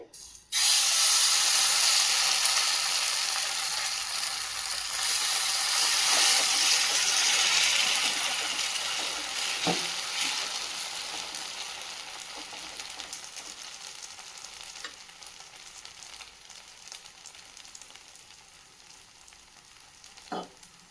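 Rava bun dosa batter hits a hot pan and erupts into a loud, broad sizzle that gradually settles into a steadier, softer frying hiss, with a few faint utensil clicks and no talking.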